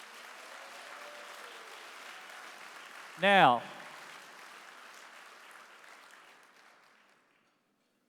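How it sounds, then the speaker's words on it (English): An audience at a Hall of Achievement event applauds for about seven seconds. The clapping is steady and fairly soft, a voice speaks briefly over it, and then it fades out. "so give him a big round of applause again."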